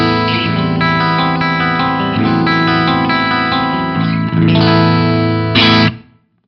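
Electric guitar through an Axe-Fx III clean amp model with studio-style reverb: sustained, rich chords ringing loud and close, with a final strum before the sound cuts off into silence.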